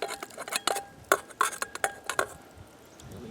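Browned venison chunks tumble into an outdoor stew pot with red wine, giving a run of clinks and scrapes of meat and utensil against metal, fairly close, then settling into quiet.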